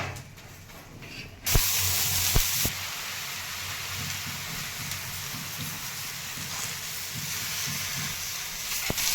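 Dhapate flatbread roasting in oil on a hot pan, a steady close sizzle that jumps louder for about a second after oil goes in, then settles into an even crackle with occasional soft clicks.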